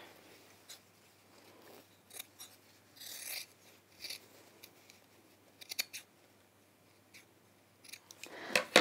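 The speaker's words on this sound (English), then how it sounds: "Then I'm just going to trim off this seam." Scissors snip repeatedly through a fabric seam allowance on a pinafore dress, a series of short, crisp cuts spaced irregularly, fairly close and quiet, with no talking.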